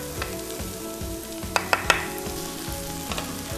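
Onions sizzle in hot oil in a pan with a constant frying hiss, repeated soft stirring scrapes and a few sharp clicks of a utensil near the middle, close and alone with no voices.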